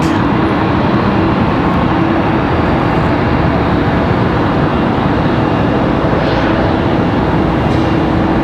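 A plane flies in to land at Raleigh-Durham International Airport. Its steady, loud engine roar holds throughout with no talk.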